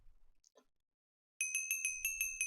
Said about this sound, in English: in Thorncraft here, I made the Golemancers Bell